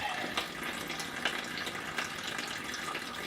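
Water running steadily from a tap during repair work on a Volvo 850, a faint continuous hiss with a few small splashes and no voices.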